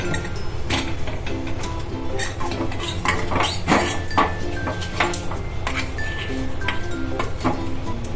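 A metal spoon clinks and scrapes against a pan, stirring coriander-cumin powder, red chilli powder and a pinch of asafoetida for masala bhakhri, in a busy run of close, bright taps and rattles with no talk.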